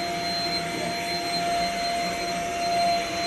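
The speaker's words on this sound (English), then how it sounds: "Actually, this vacuum is very quiet." Shark vacuum cleaner running steadily with a quiet, even whir and faint high whine, close by and alone.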